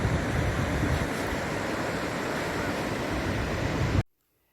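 Waves of an incoming tide rolling onto a beach, a steady broadband wash of surf with wind buffeting the microphone, loud and continuous before cutting off abruptly.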